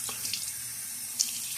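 A tap runs into a sink while shaving lather is being prepared, a steady close rush of water with a faint splash near the end.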